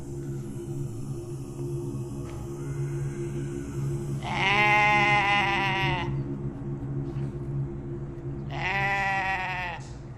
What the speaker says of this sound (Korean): 염소들이 미친 듯이 울어댔다